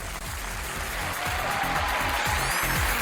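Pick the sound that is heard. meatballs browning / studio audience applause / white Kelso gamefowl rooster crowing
studio audience applause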